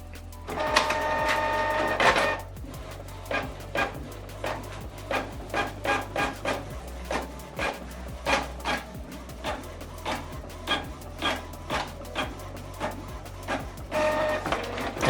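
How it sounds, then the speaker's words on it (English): An inkjet-style printer running a print job from the front tray, giving a steady series of close, rhythmic mechanical clicks and whirs from the print head and paper feed, with a louder motor burst at the start and end. "Now this document is printing."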